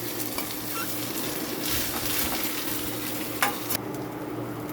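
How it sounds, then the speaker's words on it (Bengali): Potatoes stirred and fried in white oil in a wok: a steady sizzle with a few distinct scraping strokes of the spatula, the sizzle dropping away near the end. "একটু কড়াতে সাদা তেল দিয়েছি, দিয়ে এই যে আলুটা এবারে একটুখানি কড়াইতে নেড়ে নেব।"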